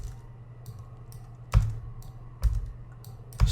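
Keys on a computer keyboard are struck in short irregular clusters, with a few louder taps standing out over a low steady hum in a quiet room.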